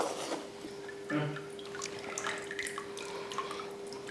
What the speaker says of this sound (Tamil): இன்னும் கொஞ்சம் புளி கரைச்சி ஊற்றணும், ஊற்றிக்கிறேன்